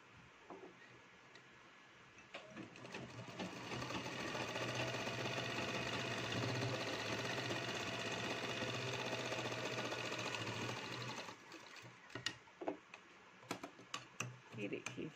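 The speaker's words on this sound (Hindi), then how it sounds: "तो अब इसके ऊपर से एक सिलाई और लगा देंगे हम।" Sewing machine stitching a seam on palazzo pants, a steady mechanical whir that builds after about two seconds, runs continuously, then stops near eleven seconds, followed by a few light clicks and handling sounds.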